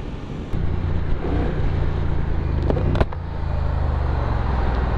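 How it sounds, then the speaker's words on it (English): A Honda Rebel 1100 motorcycle engine runs loud and steady with a deep droning rumble, briefly swelling around the middle, with wind buffeting the microphone. "I love the sound and not just the power coming from the engine."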